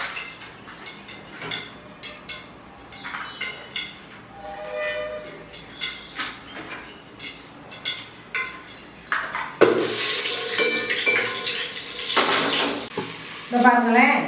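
Oil, ghee and butter sizzle in a pan for mushroom biryani, a steady frying hiss broken by clinks of utensils against the pan, growing louder and brighter toward the end, with a voice speaking at times.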